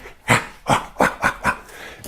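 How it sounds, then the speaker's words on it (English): A dog barks in a workshop: five sharp, loud barks close by, spaced at a fairly even rhythm, with quiet room tone between them and no speech. "That's my workshop dog."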